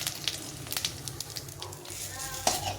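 Cumin, a dry red chilli and a bay leaf frying in hot oil in a home kitchen, a soft steady sizzle with faint crackles and small pops, fairly quiet.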